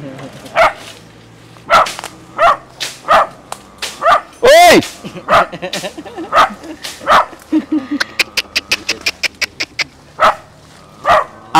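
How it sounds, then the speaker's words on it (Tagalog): A dog on a bamboo farm barks repeatedly and loudly in sharp bursts, close by. It breaks into a fast run of yips near the end while people talk and shout over it. "Ang ingay ng aso. Ayaw tumigil eh."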